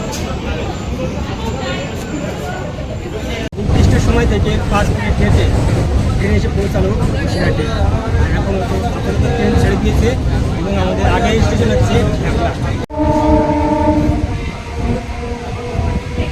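A local train to Sealdah rumbles loudly into platform one at Basirhat station, wheels clattering on rails, with a horn sounding near the end; announcements and voices carry faintly underneath.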